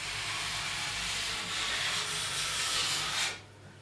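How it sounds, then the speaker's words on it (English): A file is drawn along a ski edge in one long continuous rasping stroke, close and loud, stopping abruptly near the end, with no talk. "pulling, you get a lot smoother filing action"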